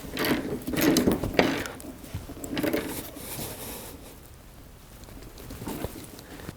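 Hand-tightening the blade bolts on a Toro Timemaster lawnmower gives a few clustered mechanical clicks and ratcheting scrapes up close, loudest in the first three seconds and then tapering to quieter handling noises.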